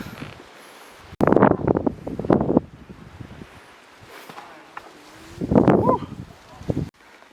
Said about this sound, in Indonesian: Kondisi masih kabut, angin masih kencang.